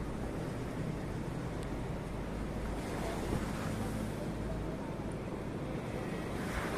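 Steady surf washing onto Sundak beach on Java's southern coast, a continuous broadband roar with gusts of wind buffeting the microphone throughout.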